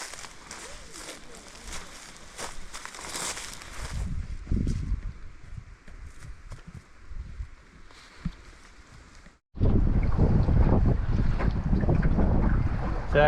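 A small boat out on Arctic coastal water in strong wind, buffeting gusts over hull and water noise that turn to a loud, steady roar near the end.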